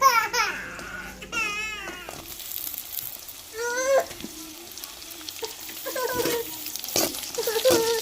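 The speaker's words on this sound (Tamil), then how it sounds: "வெங்காயம் வதங்கி வந்துருச்சுங்க நம்ம தக்காளியை சேர்த்துக்கிறோம்" Onions and tomato sautéing in a pan for an eggplant tamarind curry, a soft continuous sizzle with scraping stirs and clinks, fairly quiet, with some faint background voices and noises.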